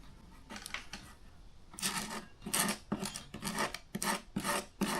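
A hand scraper drags over peeling finish in repeated rasping strokes, faint at first and then about seven louder, evenly spaced scrapes with short gaps between them.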